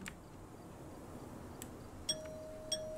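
A doorbell in the Second Life video game rings faintly at a house during Halloween, two soft chiming tones in quick succession over a quiet, low hum of background ambience.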